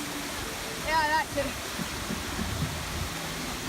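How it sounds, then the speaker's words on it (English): Steady rushing roar of several waterfalls at Animal Kingdom fills the scene, with a voice speaking briefly over the constant wash of falling water. "There's a bunch of waterfalls."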